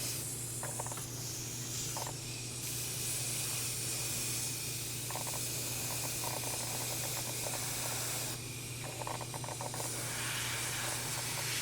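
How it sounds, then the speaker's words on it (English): Airbrush spraying paint onto a quarter-scale Deadpool figure: a continuous close, airy hiss that briefly drops out and resumes, over a steady low compressor hum. "So that I'm spraying from the shadow to the highlight"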